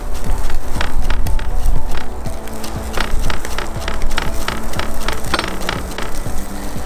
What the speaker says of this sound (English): Roughly chop through this.